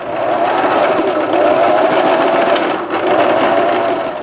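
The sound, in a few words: sewing machine stitching finishing seam beside zipper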